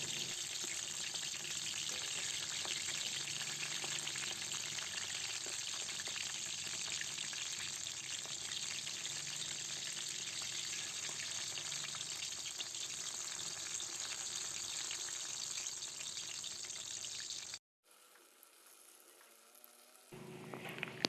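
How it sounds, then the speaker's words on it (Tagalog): Eggplant (talong) fries in a pan with a steady, dense sizzle that holds for most of the stretch, then cuts off suddenly and drops to quiet, faint sizzling near the end. "Pero ako gusto ko prituhin natin ang talong."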